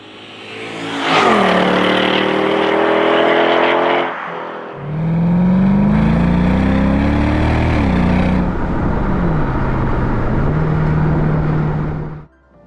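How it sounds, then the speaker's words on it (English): A Mercedes-Benz SLK55 AMG with its 5.4-litre V8 roars loudly and close, rising sharply in pitch, dropping at a gear change, then climbing again in a long, sustained pull before easing off. "let's address the first thing you all want to hear, and that's that V8."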